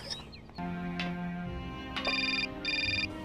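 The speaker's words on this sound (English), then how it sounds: "Oh, another phone call." A telephone rings in the adventure game Syberia, a steady electronic ringtone sounding in repeated bursts against a soft game background, with no talk over it.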